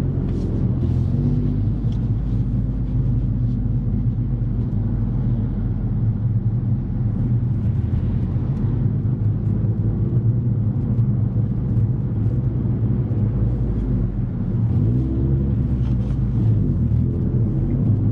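A car drives along the A14, with a loud, steady low engine and road rumble heard from inside the cabin throughout, unbroken by talk.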